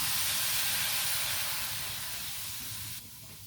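Soy sauce poured into a hot pan of cooking food bursts into a loud, steady hissing sizzle that fills the clip, then drops off sharply near the end, with no talking.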